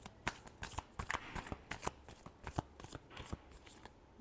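A deck of tarot cards is shuffled by hand, producing rapid, close riffling slaps and flutters in an uneven rhythm that continues for a few seconds without speech.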